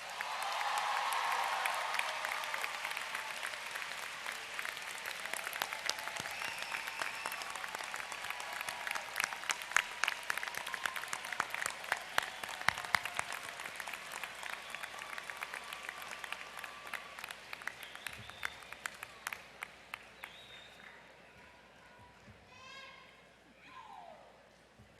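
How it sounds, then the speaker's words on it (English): Graduating students applaud their parents at a university commencement ceremony, a long burst of dense clapping from a large crowd that builds, holds, then thins and fades out over its last seconds. "let me ask all the students to show your appreciation by giving your parents a big round of applause"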